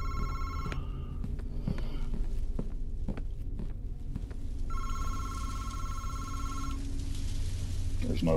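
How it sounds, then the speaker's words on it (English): Telephone ringing in the VR horror game MADiSON, an old-style bell ring in short repeated bursts with pauses between them, heard over footsteps, creaks and low ambient rumble. "Telephone."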